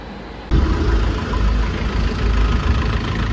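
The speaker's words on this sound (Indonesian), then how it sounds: "ini jadi mesinnya udah hidup" An Isuzu Panther diesel engine, freshly rebuilt and installed, starts up at about half a second and keeps running at a steady idle with a low, throbbing rumble, close and fairly loud.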